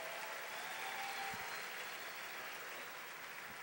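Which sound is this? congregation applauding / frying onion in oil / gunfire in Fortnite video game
congregation applauding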